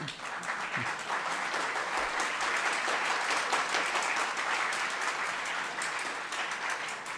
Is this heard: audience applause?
yes